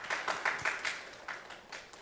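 A small audience at an international communication forum gives a quiet round of applause, a short patter of separate claps at modest volume.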